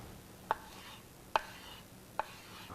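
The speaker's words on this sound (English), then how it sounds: "I'll remove it to my cutting board and cut it into strips." A knife cuts a cooked egg omelet into strips on a cutting board: three crisp, close chops spaced evenly apart, quiet between strokes, with no talking.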